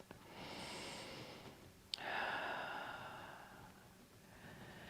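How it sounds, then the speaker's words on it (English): Slow, deep yoga breaths during a gentle beginner class: a long soft exhale, a brief sharp sniff, then another airy breath, close and quiet with no talking. "2 more breaths."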